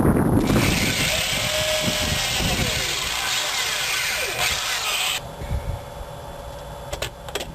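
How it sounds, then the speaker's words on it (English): A power drill whirs loudly and continuously for several seconds while drilling through a rug in a classic car, then cuts off, leaving scattered handling knocks and clicks. "what I'm going to do is drill through the rug"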